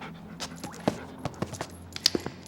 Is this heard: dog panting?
yes